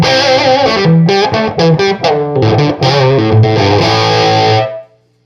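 An electric guitar plays a quick chord and note phrase through a dry, slightly distorted Greer Mini Chief 3-watt lunchbox amp, each strum cutting off cleanly with no echo or tail.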